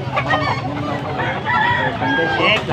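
A young rooster (stag) at a live poultry auction crows and clucks loudly and close, with voices of the crowd murmuring underneath.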